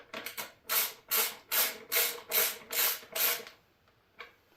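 Ratchet tightening a bolt while fitting a lowering link on a Honda XR650L motorcycle: a run of seven quick ratcheting clicks, evenly paced and close, followed by a brief pause and one more short click.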